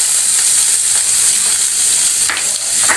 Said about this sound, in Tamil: இப்போ நம்ம பெருங்காயத்தூள் போட்டுருவோம். வெங்காயத்தை போட்டுருவோம்.